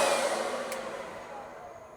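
A handheld hair dryer blows steadily close by while a man styles his hair in a small Japanese apartment, a broad, airy whoosh that tapers slightly over two seconds with no talking.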